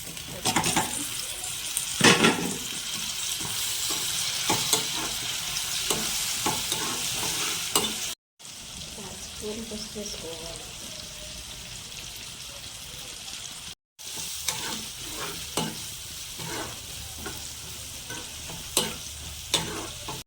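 Ginger-shallot paste and tomato fry for a brinjal and chana dal masala curry, a soft continuous sizzle broken by spoon scrapes and clinks against the pan, with two brief gaps.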